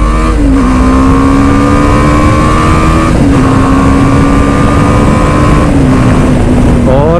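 A superbike engine drones loud and steady during a ride, holding a constant pitch with brief dips as gears shift, over heavy wind rush.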